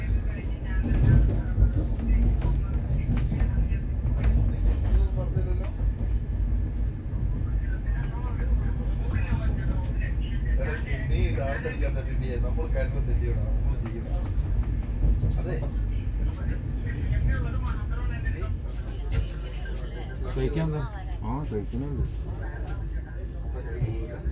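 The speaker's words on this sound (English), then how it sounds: "Pulling into Tirur for a scheduled halt." An LHB Garib Rath Express train slowing as it pulls into Tirur station, a continuous low rumble of wheels and carriage noise heard from inside the coach, steady and fairly loud, with people talking over it.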